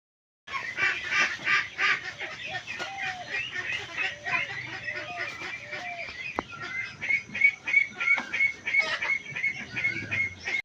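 Ducks and ducklings on a farm quack and peep almost without pause, a dense close flock of overlapping honking calls and thin chirps that rise and fall for the whole stretch, with no talk.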